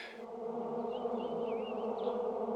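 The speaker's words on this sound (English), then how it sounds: "obviously a swarm of bees, very dense sound as they came flying past" A dense, steady buzzing of a swarm of bees flying past in a garden fills the air, a continuous droning hum with occasional higher whines passing close by.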